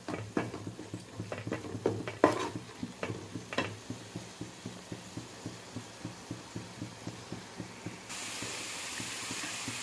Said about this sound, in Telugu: ఈ ఉల్లిపాయ బాగా వేగడానికి టైం ఎక్కువ తీసుకుంటుందండి.